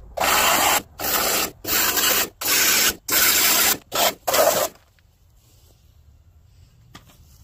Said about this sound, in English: Give it another little jet wash